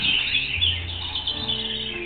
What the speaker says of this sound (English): This thing is called, oh, that's called a sooty grouse.